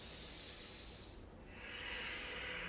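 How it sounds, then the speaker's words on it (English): Steady, airy breathing during a strength-focused power yoga exercise, a close, hissing inhale flowing into a long exhale with no talking. "Inhale, reach long. Exhale, squeeze in."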